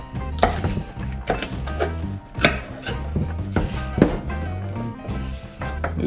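A knife chops celery on a cutting board in a home kitchen: a steady run of crisp, close knocks against the board, fairly quiet, with no talking.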